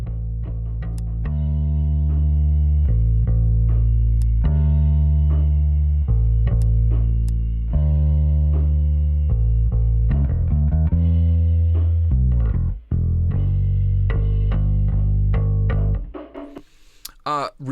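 A deep bass part processed with tape, EQ and Fairchild 660 compression plays sustained low notes under a sparse rhythm with ticking percussion, loud and steady, then breaks into a busier, glitchy ending.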